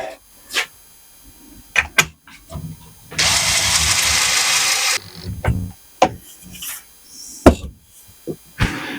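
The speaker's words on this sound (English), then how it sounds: "Wind those screws in like so." A power screwdriver drives screws into a PVC beehive floor: a loud, steady whirring burst of about two seconds, framed by brief knocks and handling clatter.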